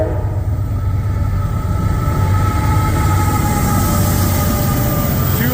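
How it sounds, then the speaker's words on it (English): An eastbound Norfolk Southern tanker train led by two locomotives rolls past, a loud continuous rumble of wheels and rail with faint squealing and hum, steady throughout and close by. "it looks like you got a tanker train coming through"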